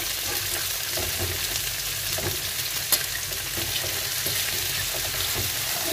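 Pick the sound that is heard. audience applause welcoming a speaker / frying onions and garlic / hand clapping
frying onions and garlic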